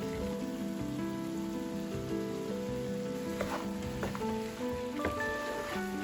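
Cabbage stirred into a pot of sautéed vegetables and ham for sweet cabbage soup, giving a steady close sizzle and frying hiss with a few scraping stirs and clinks, no voices.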